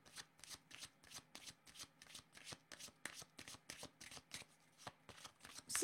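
A deck of tarot cards riffled and shuffled in quick repeated bursts, a crisp rhythmic flutter of cards snapping together at close range, with no talking over it.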